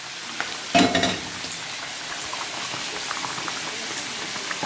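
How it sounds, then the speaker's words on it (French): Beef bourguignon simmering in a pot after about three hours of cooking, giving a steady soft bubbling hiss with one brief louder clatter near the start. "Le bourguignon qui cuit depuis à peu près 3 heures."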